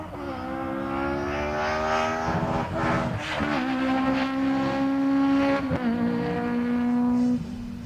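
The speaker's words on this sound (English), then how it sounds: "Car number 19 is just whizzed past." A rally car on a special stage roars past at speed near a chicane, its engine note rising and shifting through gears as it approaches and then pulls away.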